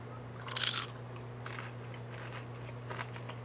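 Someone bites into a crunchy veggie samosa filled with corn, onion, potato and carrot, making one loud crisp crunch up close, followed by faint chewing over a steady background hum.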